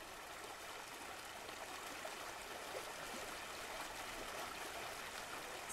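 Water from a waterfall stream rushes in a steady, close, even wash with no pauses, a continuous flowing hiss with no voices over it.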